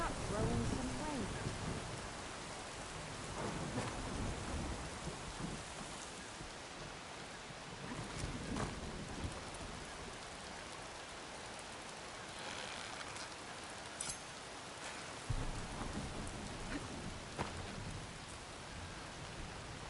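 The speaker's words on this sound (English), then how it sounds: "Why not throw in some rain?" Steady rain and rolling thunder in the video game Horizon Forbidden West, a dense hiss of rainfall on surfaces with low rumbles swelling and fading throughout.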